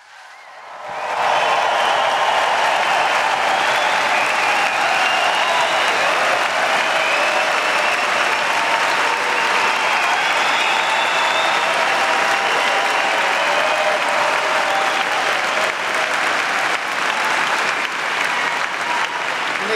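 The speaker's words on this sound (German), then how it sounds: "Ein Applaus für alle, bitte!" Sustained, dense applause from a large audience at a poetry slam awards show, swelling in after a quiet first second and holding steady and loud throughout.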